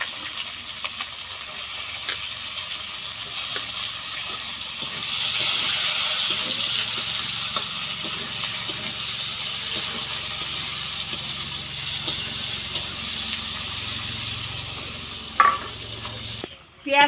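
Cumin seeds and chopped onion fry in a pan, giving a steady close hiss and sizzle with faint scraping of stirring. The sizzle swells in the middle, and a clatter comes near the end.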